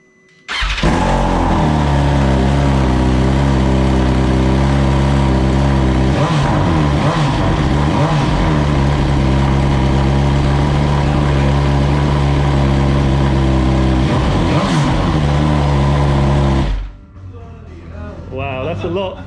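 A 2022 BMW motorcycle fitted with Black Widow exhaust headers and a tune roars on a dyno, holding a loud, sustained rev with rising and falling pitch for about sixteen seconds before cutting off abruptly into quieter background noise.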